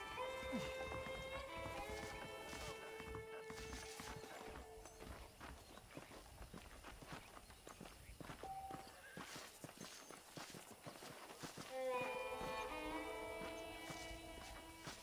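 Hooves clop in an uneven walking rhythm, faint and fairly distant, mixed with soft jingling tones and ambient background.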